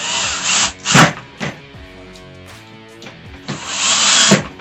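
A power drill driving screws into a Mainstays open shelf nightstand, with several short bursts of whirring motor and grinding, separated by quiet pauses and a longer run at the end.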